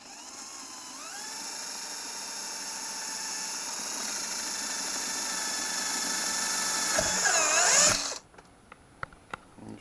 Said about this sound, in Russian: Сверлим отверстие.